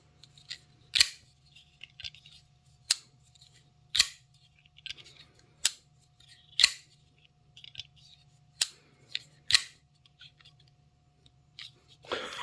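A CJRB Maileah folding knife gives a series of sharp, crisp clicks as its action is worked, about eight distinct snaps spaced irregularly over quiet background, close and isolated.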